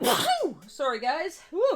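A single person sneezes sharply near the microphone, followed by brief speech and a short exclamation, indoors during a miniature painting session.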